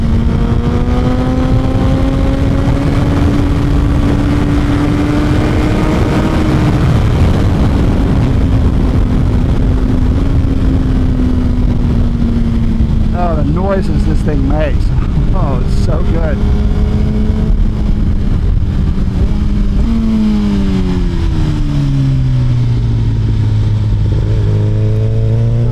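A 2026 Suzuki GSX-R 1000 engine runs loud and close while riding, holding a steady drone that climbs and falls with throttle changes, then drops in pitch as the bike slows. A rider talks over it.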